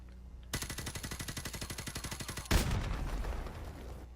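SMG fire in Call of Duty 4, one long rapid burst of evenly spaced shots lasting about two seconds, followed by a sharp louder report and a fading echo.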